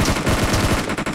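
Rapid automatic gunfire from Battlegrounds Mobile India, a dense, loud burst of closely spaced shots rattling on without pause for just over a second.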